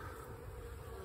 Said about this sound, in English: This middle one, quite a few bees flying,